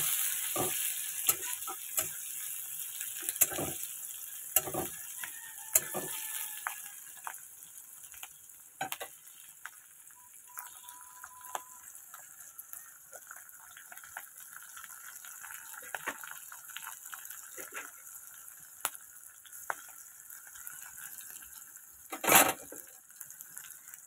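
Garlic, onion and green chillies fry lightly in a pan with a faint, thin sizzle under a run of sharp scraping and tapping stirs, one louder clatter near the end, no voices.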